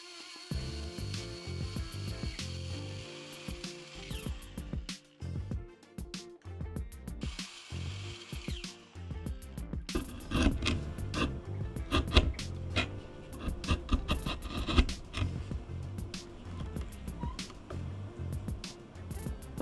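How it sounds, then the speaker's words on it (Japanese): A circular saw cuts a mahogany offcut into shape for a Teisco BS-101 bass repair, with quiet scraping and handling at first, then dense bursts of rough cutting and rasping grit that continue at moderate, uneven intensity. "マホガニーの端材に接着面の形状をトレースし、丸のことのみで形を作ります"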